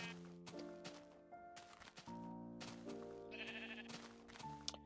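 Sheep bleating in Minecraft, a few short bleats heard over layered game music with quiet in-game footsteps.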